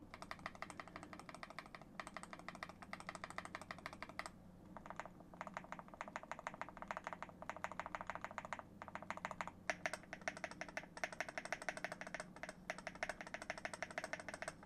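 Steady fast typing on a custom mechanical keyboard with lubed, slightly modified stabilizers in a metal case, dense close clacking keystrokes running throughout with brief pauses.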